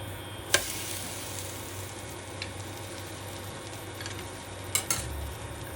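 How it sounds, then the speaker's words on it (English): Wheat paratha cooks on a pan with a quiet, steady sizzle, broken by a couple of sharp clicks and light scrapes of a utensil. "Now it's ready to cook the paratha."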